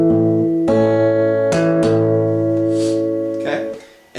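Acoustic guitar plays one measure of a song as a lesson demo: a few plucked notes and strums ring out clearly and alone, each struck note sustaining into the next.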